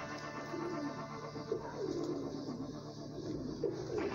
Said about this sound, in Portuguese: O pombo quer carregar madeira mesmo pra dentro do pombal